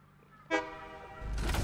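A train horn in the video game Satisfactory gives one short, bright toot, followed by the rising rumble of the locomotive starting to move, fairly quiet overall.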